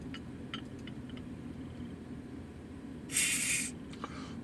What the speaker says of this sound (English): Very, very nice fizz.